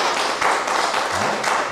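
An audience at a multi-level marketing seminar claps together in a dense, steady burst of applause that lasts throughout, with no pauses.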